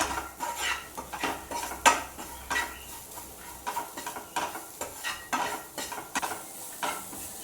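Chicken cutlet filling being mixed with garam masala, pepper and salt, with soft close scraping and stirring strokes and a few clinks of a spoon against a bowl in a regular rhythm.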